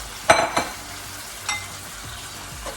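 Shrimp and shallots hit a hot pan with sharp sizzling bursts near the start and again around midway, then settle into a steady low frying hiss with faint utensil clinks.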